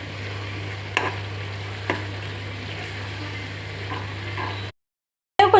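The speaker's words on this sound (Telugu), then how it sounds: "ఈ గ్రేవీలో పసుపు, కారం, ఉప్పు వేసుకొని సరిపడా వేసుకొని తిప్పుకోవాలండి" Gravy for stuffed bitter gourd curry being stirred in a pan after turmeric, chili powder, salt and water go in: a low steady bubbling simmer with a constant hum, a few soft spoon knocks, then a brief gap and louder scrape.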